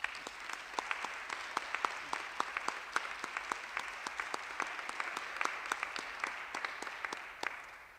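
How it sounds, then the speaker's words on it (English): At a youth apprenticeship launch event, an audience applauds for partners, with steady crowd clapping punctuated by sharp individual claps in a fairly even rhythm lasting several seconds. "Can we give them a round of applause?"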